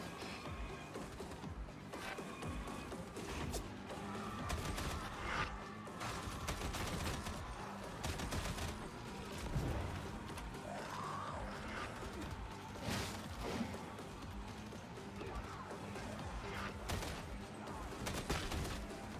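Gunfire and crashing combat noise from the Warhammer 40,000: Darktide video game, a steady dense barrage of shots and impacts continuing throughout, with faint talk underneath.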